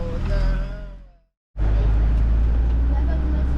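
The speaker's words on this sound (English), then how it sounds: "Driving through tiny French towns" A van rolls through small French towns with a steady, loud road and engine rumble that briefly cuts to silence before resuming just as strong, and voices chatter inside.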